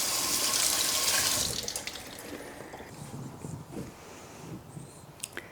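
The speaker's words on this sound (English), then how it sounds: "So I'm just going to rinse it off in the sink." A kitchen sink tap runs loudly while berries are rinsed under it, then the flow stops and soft drips, splashes and handling of wet fruit follow.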